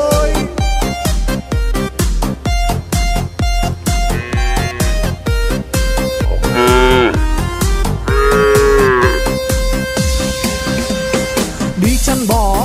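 Cattle moos sound within a children's song about cows, with a few drawn-out, wavering lowing calls rising over loud, rhythmic, bouncy music.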